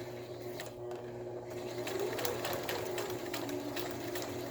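A sewing machine stitches fabric ruffles onto paper journal pages, giving a close, steady mechanical whir that runs continuously with slight changes in speed and no talking.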